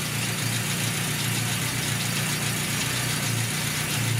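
A Datsun B310 with an A15 engine, newly converted to electronic ignition, idles steadily nearby with a smooth, even low rumble and a faint rhythmic pulse, heard alone with no voices.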